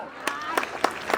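A handful of separate claps ring out at a school award presentation for a Math Olympiad winner. Four sharp, evenly spaced hand claps sound fairly faint over quiet room tone.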